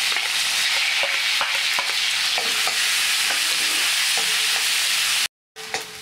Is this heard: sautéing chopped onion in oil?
yes